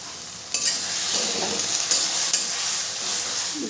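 Eggplant being stirred in a hot frying pan, a steady sizzle with scraping and clinking of the spoon against the pan, close and continuous throughout.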